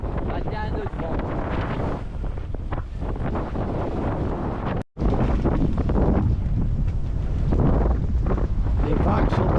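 Strong 21-knot wind roars over a sailboat at sea in heavy swell with short, steep waves, sailing with two reefs in the mainsail and little genoa out. The wind buffets the microphone loudly and almost continuously, broken by one brief dropout.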